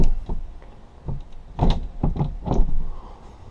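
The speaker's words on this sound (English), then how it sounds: "And this door here forms a divider should you ever want that." A sliding divider door inside a boat's cabin runs along its track, giving several rolling and thudding movements with a soft knock near the end. The sounds are close and moderately loud with no talking.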